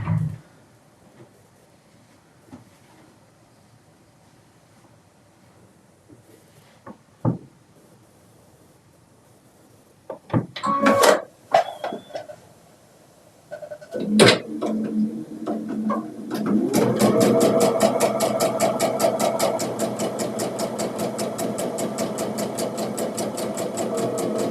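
A sewing machine stitches a quilted table topper in a steady, fast whirring run over the final seconds, preceded by scattered handling clicks and fabric rustles in a quiet room.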